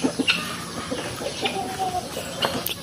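Chickens and a rooster cluck in short, scattered calls from nearby on a native chicken farm, with faint clatter in the background and no talking.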